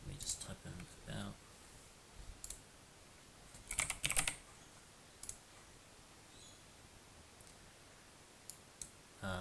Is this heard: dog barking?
no